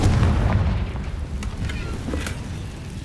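A Confringo blasting spell detonates in Hogwarts Legacy, a heavy booming explosion with a deep rumbling low end that decays into a dull, lingering roar over a few seconds.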